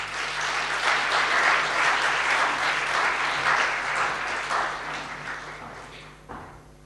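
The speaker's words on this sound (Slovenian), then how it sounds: "Prosim za aplavz za današnjega moderatorja." An audience at an evening talk gives the moderator a warm round of applause, steady close clapping that fades toward the end with a thump.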